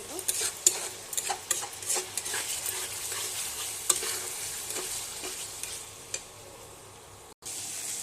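Masala sizzling in hot oil in a pan for an Odia-style paneer curry, stirred steadily with a metal spoon, with close frying hiss and repeated scraping clinks and no talk.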